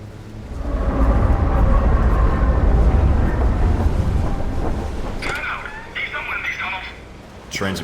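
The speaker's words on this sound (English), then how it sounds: "Trains are pretty loud here." A loud train rumbles past in Taipei in the game Alpha Protocol, a deep roar that swells and fades over several seconds, followed by a short stretch of speech.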